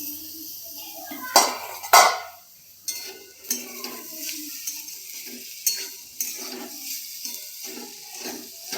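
A metal lid comes off a pot of boiling potatoes with a couple of sharp clanks, followed by scattered lighter clinks and scrapes of kitchenware against a quiet background.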